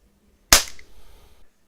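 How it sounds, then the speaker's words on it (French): A gas-powered pellet gun fires a single sharp, loud crack of a lead pellet, followed by a short fading rattle and echo, with no voices. "c'est du gaz et c'est pour tirer des billes à plomb, du plomb ou des billes. Donc ça fait un bruit assez gros quand même"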